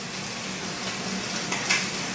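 An egg frying in a very smoky pan, a steady broadband sizzle with soft crackles running evenly throughout, close and continuous with no voices.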